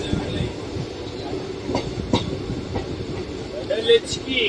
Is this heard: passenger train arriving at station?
yes